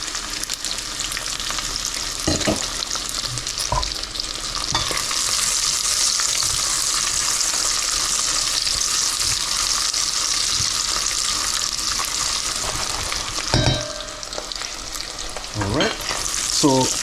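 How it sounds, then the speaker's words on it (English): Chorizo sizzles steadily in a hot pan for soup, a dense crackling fry broken by a few scraping stirs near the end, close and continuous with no talking. "it didn't take long to cook off the chorizo at all"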